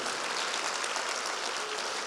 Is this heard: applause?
yes